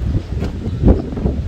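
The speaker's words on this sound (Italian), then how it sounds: "Maxi tempesta in arrivo, un vento veramente incredibile." Strong storm wind gusts roar and buffet the microphone in a home garden in continuous low rumbling bursts, with a heavier gust swelling near the middle.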